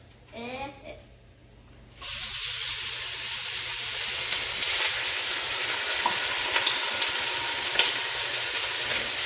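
Chili ingredients dropped into a hot pan burst into a loud, steady sizzle with scattered pops and crackles, close, after a brief stretch of low voices and handling noise.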